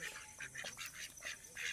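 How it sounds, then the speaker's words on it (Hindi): Ducks quacking near a roadside dhaba in the middle of a forest at Angoori, Murree, Pakistan, a close cluster of repeated nasal quacks over a faint outdoor background. "हमारे पास बतखें भी आ गई हैं और वो भी खाना खाना चाहती हैं हमारे साथ"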